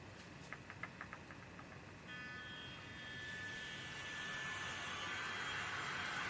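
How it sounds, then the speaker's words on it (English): Babyliss CurlStyler hair styler fan starting up: faint beeps, then a steady loud whooshing roar that builds and holds like a jet engine. "we are going to hear it when it starts to activate the fan"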